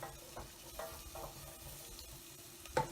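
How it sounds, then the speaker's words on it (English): Diced onions, carrots and celery sweating in a pan as a mirepoix, a faint steady sizzle with occasional soft stirring scrapes, close by and without voices. "You can hear it sizzling."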